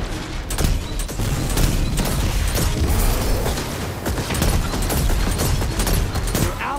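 Rapid gunfire from the online shooter Destiny 2, loud and continuous bursts with booming impacts and mechanical clatter, layered densely throughout with no pauses.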